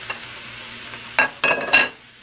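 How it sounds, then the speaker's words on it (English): Peppers and mushrooms stir-frying in a hot pan for a bok choy and quinoa stir fry, with three short bursts of sizzling and stirring over a low background hum, no talk. "I'm going to go ahead and add the peppers with the mushrooms."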